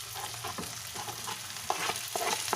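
Onion, ginger-garlic paste and tomato fry in a pan for a beef curry, giving a steady close sizzle with occasional scraping stirs and louder crackles toward the end.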